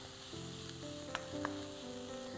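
Red and yellow capsicum stir-fry in a pan for Burmese khow suey with a soft, continuous sizzle. Two short, sharp utensil scrapes sound as the peppers are mixed, and a faint tone hums underneath.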